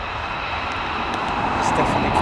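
C-130 tanker aircraft flying toward the listener, a continuous propeller-engine drone that swells slightly louder near the end.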